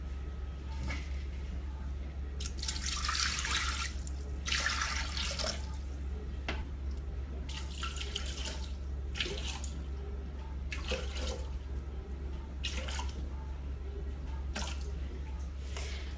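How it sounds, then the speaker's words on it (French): Roughly 500 g of water poured into a Thermomix bowl arrives in several separate splashing bursts over a constant low motor-like hum, and the pours grow shorter toward the end. "on va commencer par mettre 500 g d'eau dans notre bol"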